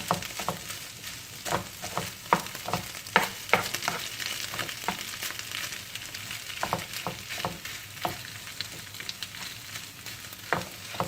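Mashed potatoes with pepper paste and chili flakes sauté in a pan, with a soft steady sizzle and repeated scraping stir strokes up close.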